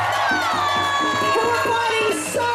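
A crowd at a March in May rally in Sydney cheers and applauds, with loud whoops and shouts layered over a raised voice.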